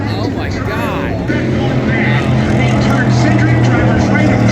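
NASCAR race cars come off turn 4 at Talladega, their engines droning loud and close under excited commentary, with pitch sweeps as the cars pass.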